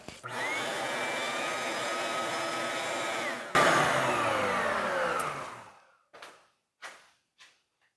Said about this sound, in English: So let me go ahead and connect the shop vac.